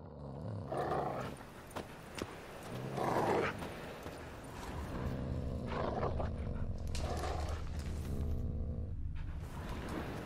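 Dogs in The Witcher 3: Wild Hunt growl and bark in low, rough bursts that repeat several times against a steady rumbling game ambience, fairly close and prominent.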